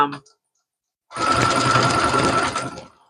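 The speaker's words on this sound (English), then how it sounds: "So I'm just going to sew it" A home sewing machine stitches knit fabric in one steady two-second burst with a constant motor whine, preceded by a brief moment of speech and a short pause.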